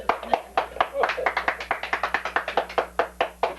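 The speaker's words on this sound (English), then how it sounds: "The applause is deafening." Applause from a magic show audience: rapid, steady rhythmic clapping filling the clip, close and lively, with a voice speaking briefly over it.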